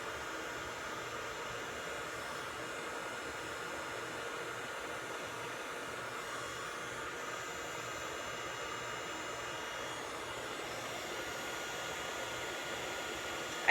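Hair dryer fitted with a diffuser blowing on curly hair, a soft, even whooshing hum that runs unbroken and fairly faint throughout, with no voices.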